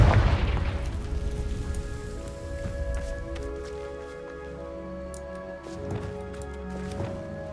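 A Confringo blast spell from Hogwarts Legacy lands as a loud booming burst at the start, then rumbles and decays under a tonal musical ambience with a few sharp later cracks.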